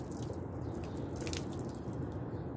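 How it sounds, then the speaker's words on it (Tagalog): Hot water is poured over a fiber car bumper, running and dripping in a steady, faint wash of splashing with soft droplets, no voices. "Lagyan natin ng tubig."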